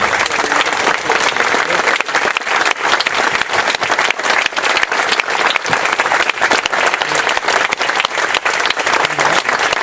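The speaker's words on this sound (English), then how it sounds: "Let's have a great round of applause for all of our veterans" Sustained audience applause for veterans at a Memorial Day ceremony in Dover, Massachusetts, a dense, loud wash of many hands clapping steadily for the full stretch, with a few faint voices mixed in.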